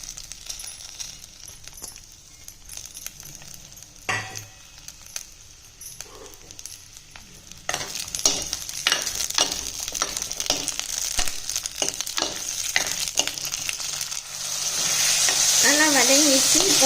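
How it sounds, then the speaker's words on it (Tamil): Garlic, shallots and tomato sauté in hot oil for a banana flower kulambu, a steady sizzle with scraping stirs that grows louder and denser toward the end. "பூண்டு, சின்ன வெங்காயம், தக்காளியும் போட்டு நல்லா வதக்கிடலாம்"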